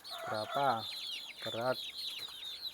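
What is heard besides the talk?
free-range kampung chickens clucking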